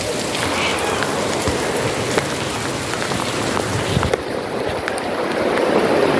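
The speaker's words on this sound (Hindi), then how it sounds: "बहुत तेज़ बारिश शुरू हो गई है" Heavy monsoon-style rain pours down steadily outdoors, a dense loud hiss of drops drumming on surfaces that continues without a break from start to finish.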